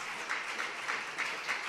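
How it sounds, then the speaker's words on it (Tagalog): A congregation at a Wednesday midweek church service claps in a steady, rhythmic, fairly distant applause, softly rising and falling with no voices over it. "Palakpakan natin ng malakas na palakpak."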